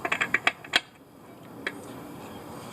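A torque wrench set to 72 foot-pounds clicks during motorcycle chain maintenance, giving a quick run of about six sharp, close ratcheting clicks, then one faint click later over a quiet background.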